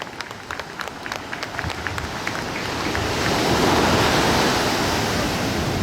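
A beachside crowd at the Banzai Pipeline in Hawaii claps for eleven-time world champion surfer Kelly Slater. Sharp individual claps come first, then swell into a thick, continuous roar that blends with the crash of surf.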